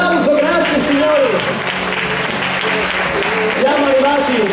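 A crowd at the Cantamascagni 2012 singing contest applauds loudly and continuously, with a host's voice talking over the clapping the whole time.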